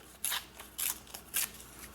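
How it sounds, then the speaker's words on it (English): Scissors make three quick, crisp snips while trimming an ephemera paper printed to look like a book page for a journaling card. The cuts are evenly spaced, close and fairly quiet. "I am just going to cut it and just trim it a little bit more"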